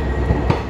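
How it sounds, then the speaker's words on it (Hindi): Onboard rumble of the Nandigram Express passenger train on the Adilabad–Mumbai route, hauled by a WDP4B EMD diesel locomotive, with a steady low roll and a couple of soft wheel thumps over a short stretch. "मैं हूँ ऑनबोर्ड अभी 11401 402 आदिलाबाद छत्रपति शिवाजी महाराज टर्मिनस मुंबई नंदीग्राम एक्सप्रेस में।"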